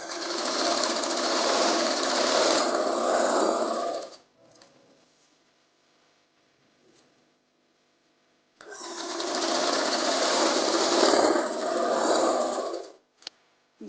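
Sewing machine stitching elastic onto the waist of plazo pants, running in two loud, steady bursts of about four seconds each, separated by a quiet pause filled with faint handling of the fabric.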